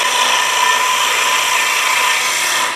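A doorstop spins on a wood lathe while a gouge rides its bevel, giving a steady, close, continuous scraping hiss that holds even and unbroken with no voices.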